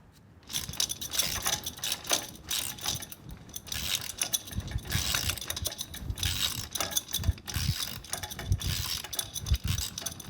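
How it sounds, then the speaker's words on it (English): A socket wrench with an extension turns a spark plug on a 1989 Pontiac Firebird Trans Am, giving close, busy metallic ratcheting clicks and clanks in irregular bursts throughout, with no talk. "I can get this end here into the socket and this end on my wrench."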